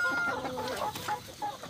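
Soft, scattered clucking from chickens at a moderate distance, with a busy farmyard background.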